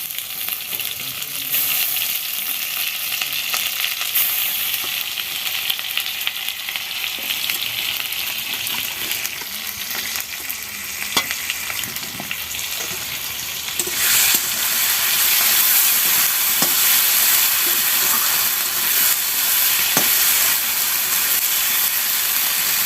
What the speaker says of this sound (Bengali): মশলাটা দিয়ে একটু ভালো করে ভেজে নেবে